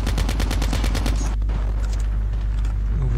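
Rapid bursts of close, loud gunfire in a COD Mobile match on a terminal map, a quick run of evenly spaced shots that stops abruptly, followed by quieter game ambience and scattered distant effects.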